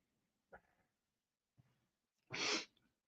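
A single loud, explosive sneeze near the microphone, preceded by two short sharp intakes of breath.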